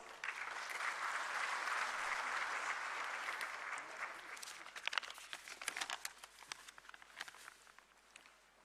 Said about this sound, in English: I request you all to kindly give him a welcoming round of applause